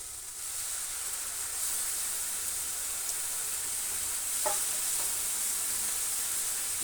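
Water hitting hot, lightly roasted semolina in a pan for Kolkata-style dudh puli pitha gives a steady, close sizzling hiss that holds for several seconds, with a brief sharper crackle partway through and no talk.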